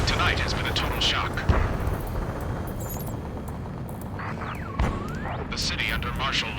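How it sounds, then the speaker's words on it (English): Jet aircraft roar and explosions echo through a city at night in the combat flight game Ace Combat 7, with booming blasts and passing engine sweeps beneath continuous background rumble. "Gunfire and the roar of jets echoing through the streets."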